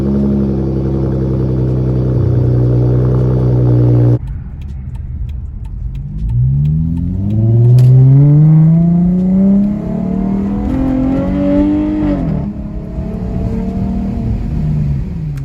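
A 2014 Dodge Challenger SXT with a cold air intake, heard first as a loud steady idle, then driving off with several rising and falling engine revs through the gears, close and loud.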